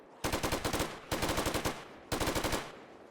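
Light machine gun from a 7 Days to Die mod firing in three sustained automatic bursts, each roughly a second long with rapid, evenly spaced shots, loud and close, no talking.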